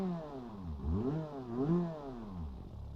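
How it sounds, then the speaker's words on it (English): A car engine in the BeamNG driving game idles and revs, its rough, clattering tone rising and falling in several swells, loud and close with no talk. "That engine is loud."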